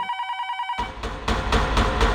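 An electronic telephone bell rings in a rapid trilling burst for under a second, then cuts off into louder rumbling background noise in a crime-drama scene. No one speaks.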